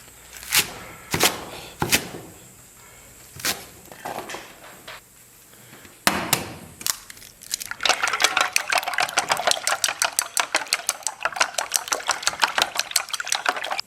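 Chives, washed, being cut into short lengths with a kitchen knife on a board, a burst of sparse knocks giving way to a fast, steady run of crisp chops, close and clear with no talk.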